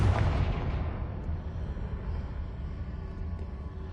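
A Confringo fire spell bursts in the game Hogwarts Legacy, a loud booming blast at the start that rolls on as a dense, rumbling roar and slowly dies away over the next few seconds.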